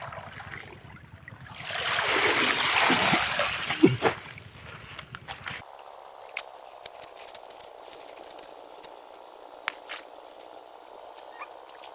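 Water hyacinth is tossed into a fish pond, and a burst of water splashes and sloshes for a couple of seconds. Quiet outdoor ambience with faint clicks and rustles follows.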